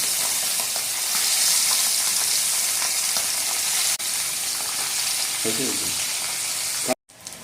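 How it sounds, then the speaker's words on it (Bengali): Bele fish frying in hot oil for a Bengali fish curry, a steady close hiss and sizzle filling the whole clip, with brief clatter near the end before it cuts out. "আর আমাদের তেল কিন্তু গরম হয়ে গেছে। এখন মাছগুলো দিয়ে নেব।"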